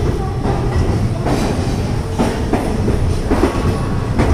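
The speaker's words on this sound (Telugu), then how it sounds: "సో మన ట్రైన్ ప్లాట్ఫామ్ నెంబర్ 5 నుండి బయలుదేరింది" Gowthami Express pulling away from platform 5, heard from inside a 3AC coach: a steady, loud rolling rumble with repeated wheel clatter over rail joints and a faint squeal of wheels.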